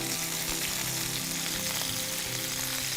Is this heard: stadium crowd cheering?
no